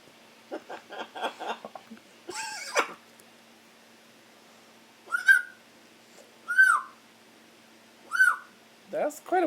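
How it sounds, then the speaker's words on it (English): Pet bird whistling indoors, a few faint rising and falling whistled calls spaced by pauses, with some quiet human voice sounds early on. "That's quite a whistle you got there."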